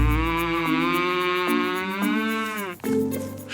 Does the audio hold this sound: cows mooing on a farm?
yes